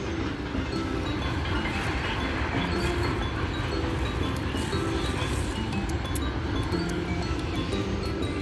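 Train crossing a river near Chikali station, a steady loud rumble of rolling wheels and carriages with continuous broadband noise and faint rhythmic clatter, no talk over it.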